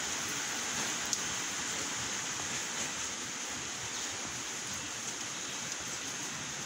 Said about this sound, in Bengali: ঝিরি ঝিরি বৃষ্টি হচ্ছে